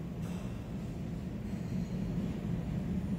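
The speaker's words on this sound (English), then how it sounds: "There's a train." A train passes at a distance as a low steady rumble, growing slightly louder toward the end, with no talk over it.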